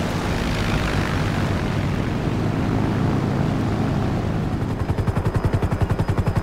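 A helicopter during a GTA 5 coastal search and rescue mission: steady loud rotor and engine roar throughout, turning into a sharp rhythmic blade chop near the end.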